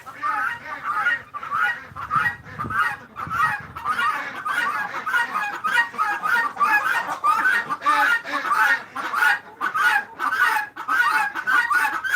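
Chickens cluck and squawk noisily in a busy flock, a dense chattering chorus that goes on throughout, with a few other bird calls mixed in.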